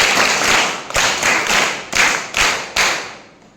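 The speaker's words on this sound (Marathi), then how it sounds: "सगळ्यांनी जोरदार टाळ्या वाजवून मॅडमांचा अभिनंदन करा. व्यवस्थित टाळ्या वाजवायच्या आहेत." An audience at a Guru Purnima school gathering claps together for a teacher in several short bursts of applause, each starting sharply and fading, loud and close, with brief gaps between rounds.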